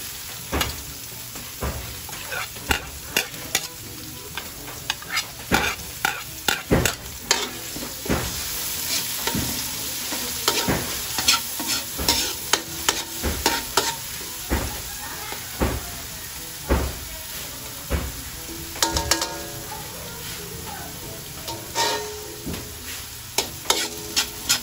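Onions sautéing in a pan while being stirred, a continuous sizzle punctuated by frequent rhythmic scraping and tapping strokes of a utensil, close and fairly loud with no talking.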